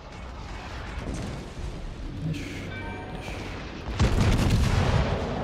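Naval gunfire booms in World of Warships, a rumbling shell barrage with a whistling tone midway and a heavier burst of blasts near the end, under continuous game noise.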